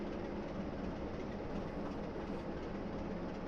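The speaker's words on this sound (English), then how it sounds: "Major brake application at this time." A train in a rail simulator on the Great Western Main Line braking hard: steady rolling wheel noise and rumble throughout, continuous and fairly quiet, with no distinct squeal standing out.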